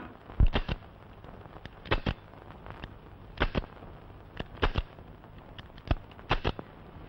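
Sharp explosive cracks in scattered bursts of two or three, loud and close, like guns or firecrackers going off during a Pongal festival scene, with no speech.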